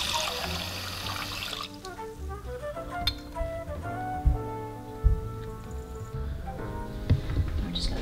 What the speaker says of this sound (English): we're going to rinse a 1/4 cup of rice